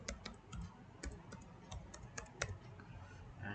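Password keys tapped on a computer keyboard, a quiet run of quick, close clicks in an uneven rhythm with no voices.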